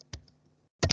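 Computer keyboard typing: a couple of isolated close clicks, then a quick burst of two or three keystrokes at the end.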